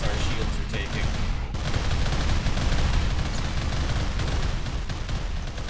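Las cannons blasting away in a RimWorld 40k battle, a dense, continuous barrage of rapid energy-weapon fire and impacts roaring at close range with no letup.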